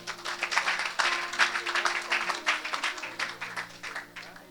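A church congregation at a deliverance service applauding, many hands clapping in an uneven rhythmic patter with a held musical tone underneath.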